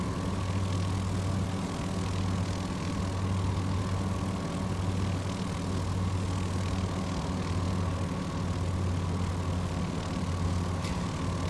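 A propeller airplane cruises at 2400 RPM with 23.5 inches of manifold pressure, producing a loud, steady droning engine hum with constant tonal layers and no pauses, heard from inside the cabin.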